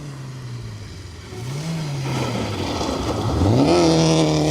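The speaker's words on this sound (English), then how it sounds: "Ian Holiday, Jane Wright in the Ford KA, car 54. Going well" Ford Ka rally car, number 54, on a tight-cornered stage, its engine note rising and falling through gear changes and then revving harder as it approaches and grows louder.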